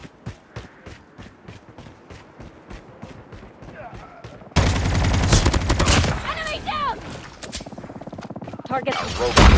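Gunfire in Call of Duty Mobile multiplayer: rapid rhythmic shots at a moderate level, then a louder dense burst of automatic fire with explosions, overlaid by game sound effects.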